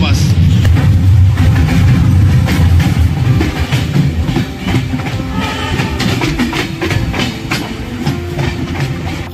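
A passenger train on the New Jalpaiguri to Alipurduar tourist special rolls into Siliguri Junction, with loud continuous rumble and rhythmic clickety-clack of wagons, steady throughout with voices and carriage noise mixed in.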